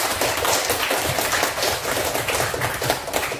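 A classroom of students claps together, a dense, steady patter of many hands close by lasting throughout with no voices over it.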